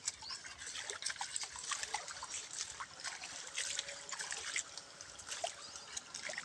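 Rainwater trickles along a channel beside a farm field after rain, a steady close babble and dribble with small splashes, heard alone and fairly faint.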